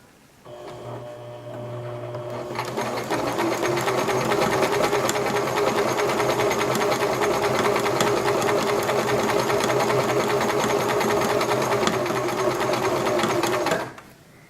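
A sewing machine stitches a fabric seam for a middle school seam sample, starting after a brief quiet moment and running steadily and close for about eleven seconds before stopping abruptly.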